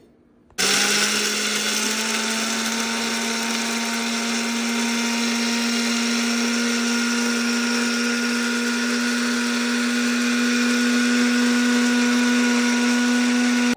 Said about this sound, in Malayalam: ഇനി നമുക്കിത് പൊടിച്ചെടുക്കാം അല്ലേ മുത്തശ്ശി